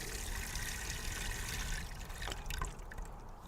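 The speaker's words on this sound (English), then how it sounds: "I'll take some liquid seaweed and just a shallow bowl and soak the onion sets in a little bit of liquid" Liquid seaweed pours into a shallow bowl for soaking onion sets in a continuous close trickle, with a small splashy change near the end.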